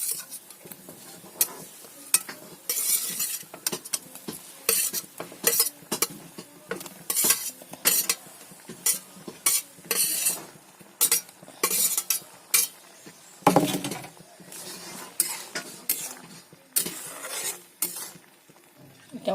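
Eggs being cooked in a pan, with a utensil stirring and scraping in frequent irregular clatters over a low sizzle, close and fairly loud, with no talking.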